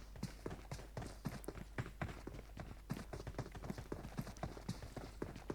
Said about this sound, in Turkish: Vallahi ayak sesi var abi şansa bak.